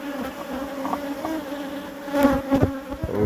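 Honeybees buzz around a hive fitted with a pollen trap, a close, loud, continuous droning hum with individual bees passing near, no talking.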